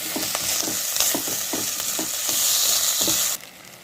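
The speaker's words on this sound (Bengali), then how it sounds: "এবার আমি দিয়ে দেবো টমেটো কুচি।" Chopped tomatoes hit hot oil with fried onions and ginger-garlic paste, a loud close sizzle with a quick, regular series of spatula scrapes, ending abruptly.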